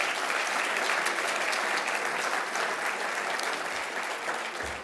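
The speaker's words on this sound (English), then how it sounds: "Can I get a round of applause for Steve Scalise?" Sustained audience applause fills a political gathering hall, dense and steady from start to finish without pause, with no speech on top, fading only slightly at the very end.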